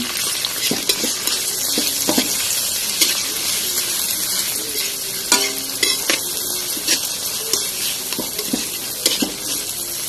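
Chopped tomatoes go into a hot pan of browned aromatics for ginisang sayote with sardines and are stirred. The result is a steady sizzle with scraping and clinking of the utensil against the pan, and no speech.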